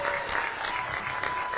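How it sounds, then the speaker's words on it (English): A livestream crowd applauds for Tony Schiavone, a soft, steady patter of clapping heard from a distance for under two seconds, with faint voices mixed underneath. "Round of applause for Tony Schiavone, ladies and gentlemen."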